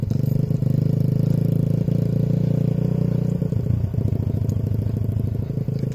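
A motorcycle ridden by a learner rider, a steady loud, close engine drone with rapid rhythmic pulsing and some clattering that grows choppier toward the end.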